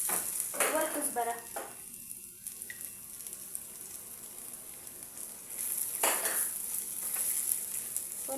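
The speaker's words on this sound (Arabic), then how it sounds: "نحمس اللحم جيدا مع الكشنة" Meat frying with an onion base in a pan for Yemeni meat saltah, sizzling and sputtering up close, with bursts of stirring and utensil scraping near the start and again toward the end, some quieter stretches between.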